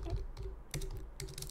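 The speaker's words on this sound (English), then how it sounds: "I'm not used to typing fast." Fast typing on a computer keyboard, with bursts of quick clicking keystrokes close up, pausing briefly between runs, alone without any voice.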